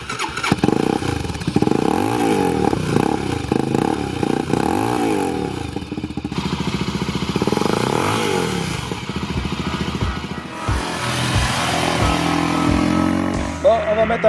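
An SWM 440 Silver Vase motorcycle from 2016, a 25 kW single, idles and then revs up several times in rising and falling sweeps, loud and close, with mechanical clatter and the throttle blipped harder toward the end.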